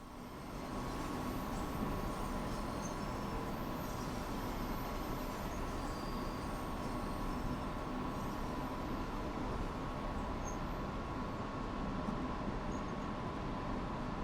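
A Class DB BR 114 electric locomotive running in Train Sim World 5, a steady, loud rolling rumble and hiss of wheels on track that holds level for the whole stretch, with no voices.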